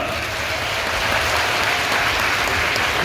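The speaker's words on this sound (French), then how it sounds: "on applaudit bien fort" Dense, loud audience applause at a Gauls-versus-Romans show, a continuous wash of many hands clapping throughout.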